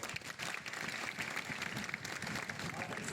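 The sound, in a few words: audience applause for MCD employees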